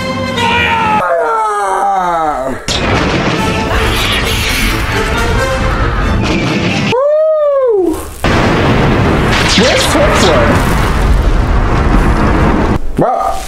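Weapons fire and explosions from a Doctor Who episode, loud, dense booms and crashes filling the scene, with shouted voices and a short break in the middle.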